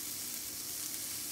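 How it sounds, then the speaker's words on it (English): Turkey burger patties brushed with olive oil sizzle on a hot indoor grill, a close, steady crackling fry with no voices. "You can hear the sizzle."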